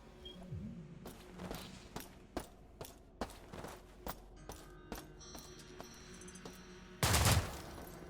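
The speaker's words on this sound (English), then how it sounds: "I just got this, the assault rifle." An assault rifle in System Shock (2023) fires sharp short bursts, roughly one every second, over a quiet hum of ambience, followed by a louder sustained burst of noise near the end.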